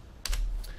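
A few quick keystrokes on a computer keyboard during AutoCAD drafting, sounding as two or three close, crisp clicks alone over a low steady hum.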